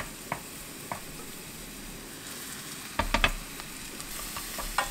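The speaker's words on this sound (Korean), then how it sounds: "썰어둔 파를 기름에 살짝 구워줄 것입니다." Chopped scallions frying lightly in oil in a pan, a soft steady sizzle with scattered pops and crackles that grow busier toward the end, fairly close and with no talking.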